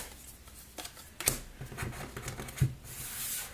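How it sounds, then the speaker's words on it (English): Playing cards from the One Deck Dungeon card game being shuffled: a short papery riffle and rustle with one sharp snap partway through, close and alone. "shuffle these cards"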